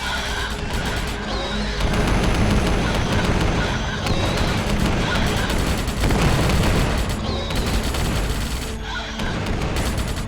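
Sustained battlefield gunfire from a Starship Troopers scenario in the Men of War: Assault Squad 2 strategy game, dense overlapping shots and booming blasts rolling continuously at a steady loud level, no voices.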